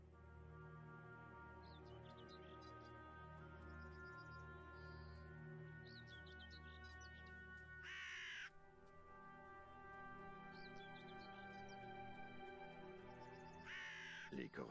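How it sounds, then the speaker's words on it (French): Crows caw repeatedly in an orchard, two harsh bursts standing out above a steady layer of chirping birds and tonal background sound, fairly near and loud. "Les corneilles attendent de s'en mettre plein le gosier."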